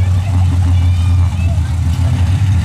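Outlaw Pro Stock dirt race car engine at Cook Station, Missouri, a steady loud low rumble holding throughout, with an announcer talking over it.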